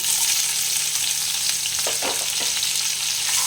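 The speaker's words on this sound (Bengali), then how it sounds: "এটা একটু ভেজে নেব লাল করে লাল করে ভেজে নিচ্ছি হ্যাঁ।" Chopped onions fry in a pan for a small-fish curry, giving a steady hissing sizzle throughout, with a few soft scraping stirs midway, close up and without speech.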